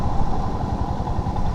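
A motorcycle cruises along a highway at about 100 km/h, its engine drone and rushing wind forming a loud, steady, close roar with no break.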